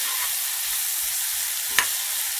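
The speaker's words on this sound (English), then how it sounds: "So now I'm going to add my apples. Woo! Listen to that sizzle." Sliced apples sizzling in a hot frying pan, a steady bright hiss throughout with one brief clack partway through.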